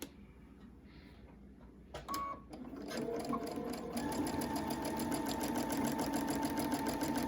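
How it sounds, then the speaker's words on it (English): A sewing machine stitching a fabric face mask runs steadily and loudly after a brief start, with a continuous whirring hum that settles into a fast, even rhythm. "We're going to sew halfway, and then she's going to put the elastic in the other corner."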